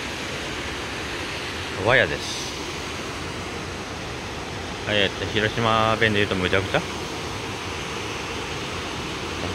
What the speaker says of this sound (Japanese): 普通の道路がナイアガラの滝みたいになってます